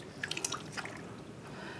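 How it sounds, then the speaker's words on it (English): Water dripping and splashing as a baby's hair is wetted at bath time, a few quick faint drips clustered near the start over a quiet, hissy room background. "you can either cup the water and wet the baby's hair"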